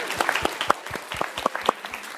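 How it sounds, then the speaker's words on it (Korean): Audience applause at a live talk show lecture, a burst of many hands clapping at close range, dense and uneven with sharp individual claps, with no talk over it. "박수 많이 쳐줘요."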